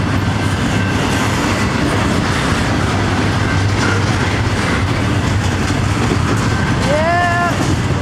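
A Norfolk Southern intermodal freight train rolls south past the Cooke Road crossing, loud and close, with a continuous rumble of wheels on rail. Near the end, a rising metallic wheel squeal cuts through.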